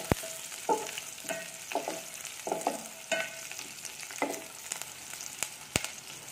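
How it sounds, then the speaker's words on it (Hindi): Onions and whole garlic cloves fry in a pan for a masoor dal, giving a soft, steady sizzle broken by repeated scraping stirs and a couple of sharp clinks against the pan. "प्याज को गोल्डन ब्राउन होने तक पकाएंगे। साथ में हम इसमें जो हमने लहसुन की जौएं ली हैं वो भी ऐड कर देंगे।"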